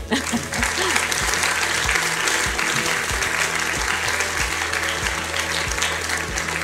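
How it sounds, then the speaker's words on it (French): Audience applause at a university conference-performance on digital culture, a thick sustained roar of clapping held at an even level for several seconds, with a regular low thumping pulse running underneath. "Et on applaudit."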